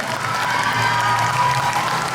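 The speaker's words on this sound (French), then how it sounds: "Oui, on applaudit encore bien fort." A cosplay contest audience claps warmly, a full, even round of applause with a hint of crowd cheering mixed in, sustained at close range for the short stretch.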